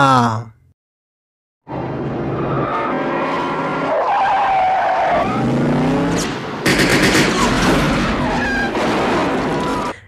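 A car in a chase with an axe gang leader's vehicle speeds off with loud, sustained tyre skidding and squealing over a roaring engine, close and intense, with a sharp burst of noise near the end.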